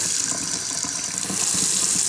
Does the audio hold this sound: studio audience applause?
no